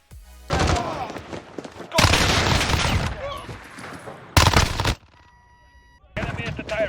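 A Fennec SMG fires in Call of Duty Modern Warfare in loud close-range bursts, three dense fusillades of rapid shots separated by short pauses, with a fourth burst starting at the end.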